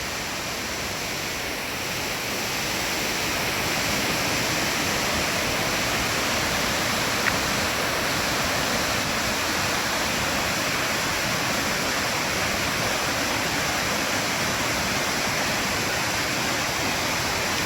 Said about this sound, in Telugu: ఎంత అద్భుతంగా వాటర్ ఫాల్ వెళ్తుందో చూడండి